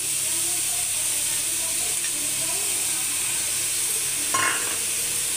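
Chhana (paneer) tipped into masala frying in a pan on a gas stove, a constant loud hiss and sizzle with a brief clatter near the end.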